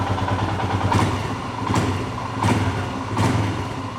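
A Royal Enfield motorcycle engine idles with a steady thump, blipped in four evenly spaced revs, each a brief rise in pitch before it settles back, close and fairly loud.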